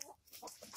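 Several hens clucking softly in short repeated bursts, fairly faint and close, with no talk over them.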